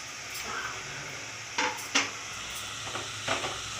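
Vegetables with chopped fenugreek leaves frying in a pan for pulao, a steady low sizzle broken by a few sharp scrapes and clinks of a stirring spoon against the pot, close and moderately loud.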